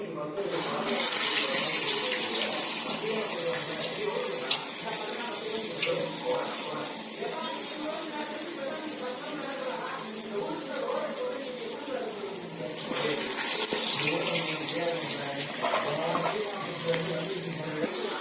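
Urad dal medu vada frying in hot oil, a continuous, dense crackling sizzle that stays loud throughout with brief surges, like steady spattering.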